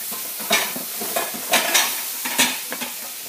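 Peppers and vegetables frying in a pan for a pasta sauce, a close sizzle broken by repeated scraping strokes of a utensil stirring them, no talk.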